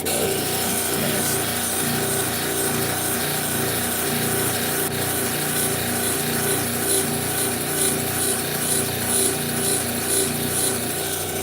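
A 3000-grit grinding wheel runs steadily throughout, giving a continuous dense rubbing, abrasive whir with a faint pulsing texture, close and loud with no talking.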